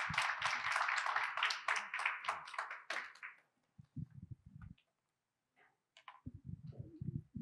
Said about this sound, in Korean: 신부님 나오실 때 또 박수로 맞이해 주시면 감사하겠습니다.